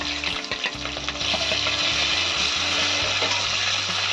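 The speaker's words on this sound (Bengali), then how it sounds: "এখানে একটু কুচনো পেঁয়াজ দিয়ে দেব।" Chopped onion dropped into hot oil over tempered cumin seeds, a loud dense sizzle that swells after the first second and holds steady nearby, with a few utensil knocks at the start.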